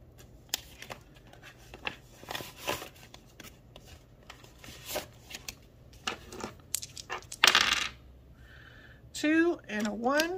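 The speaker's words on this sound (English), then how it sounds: "Oh, roll the dice, definitely." Dice rattle and tumble across a surface during a paycheck cash savings challenge, giving scattered close clicks and one louder burst of rolling, with a brief voice-like sound near the end.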